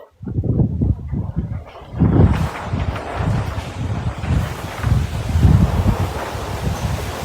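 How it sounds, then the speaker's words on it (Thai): Powerful storm wind at a home during a severe tropical storm, roaring in loud continuous gusts that surge and buffet the microphone with heavy rushing noise throughout. "ลมน่ากลัวมาก"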